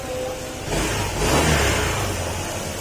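A Honda ADV160 scooter engine with a repaired camshaft, revving up from a steady idle to a louder, sustained rev and then easing back, heard up close with no talking.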